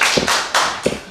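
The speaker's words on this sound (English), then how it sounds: "I know you just clapped" An audience claps at a Jersey City council caucus meeting. The applause comes as short, close bursts of hand claps with brief gaps between them, and no one speaks over it.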